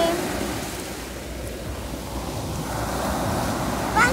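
Big sea waves washing onto a beach, a steady broad roar of surf with wind buffeting the microphone, fairly close, and a faint voice near the end.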